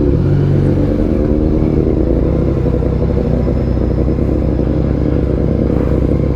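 Motorcycle riding through congested holiday traffic, a steady loud engine drone and rumble with clattery mechanical texture, continuous and close throughout, no voices.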